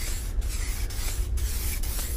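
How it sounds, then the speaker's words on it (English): An aerosol can of reducer sprays a steady, loud hiss over the sealer edges on a car, with brief dips where the nozzle is released and pressed again. "we're just going to spray this over these edges to soften these"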